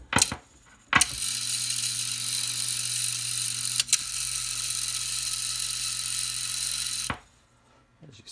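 The cleaned and re-oiled tuning motor of a 1937 RCA 811K radio starts with a click, whirs steadily for about six seconds with one brief knock midway, then clunks to a stop, close and fairly quiet.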